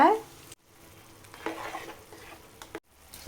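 Soaked basmati rice being stirred in a pot for egg dum biryani, giving a soft scraping, sloshing stir with a brief sizzle, broken by short pauses.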